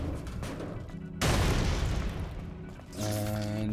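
Boxes are smashed in the video game Stellar Blade, producing a loud booming burst of crashing debris that tails off, followed by a second rumbling hit, with game music underneath.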